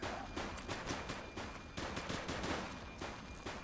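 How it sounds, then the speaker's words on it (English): Rapid gunfire in a police video game, a continuous burst of sharp shots fired in quick succession for a few seconds, loud and close with no talk. "Shots fired."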